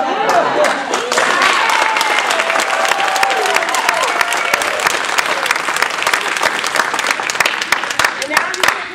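Applause from an audience at a Toastmasters table topics contest, a thin but steady round of clapping that continues for the whole stretch without pause.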